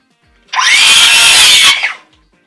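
A power saw cuts through a wooden corn hole board, giving one loud, close, high-pitched whine that rises, holds for just over a second and then spins down, with no talking.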